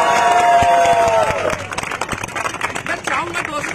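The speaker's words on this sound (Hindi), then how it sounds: "एक बार मैं चाहूंगा कि उसका जब नाम लूं तो जोरदार तालियों से जरा रोड हिल जाना चाहिए" Crowd at a gathering bursting into loud clapping and cheering for a speaker, dense rapid claps with shouts mixed in, after a sustained tone fades at the start.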